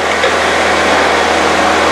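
A Fiat car engine runs smoothly in a workshop, giving a steady, loud, continuous hum with no voices over it.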